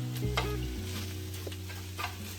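Minced meat browning in a hot frying pan for stuffed capsicum, a steady close sizzle with a few brief stirring scrapes, no talk.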